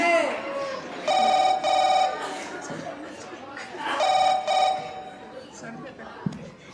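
A telephone rings in two bursts of repeated electronic trills indoors, with people talking over and between the rings.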